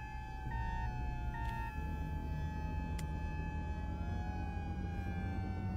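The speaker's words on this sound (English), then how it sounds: "It's just an additional siren." A loud electronic siren from a fire department vehicle in the video game Flashing Lights wails continuously, its pitch holding with brief shifts, alongside a low rumbling engine.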